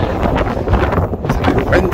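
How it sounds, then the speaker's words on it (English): Strong gusty wind buffets the microphone in rough, rumbling bursts on a mountainside of Beinn Dearg near Ullapool, Scotland, loud and close throughout. "It's a bit windy here."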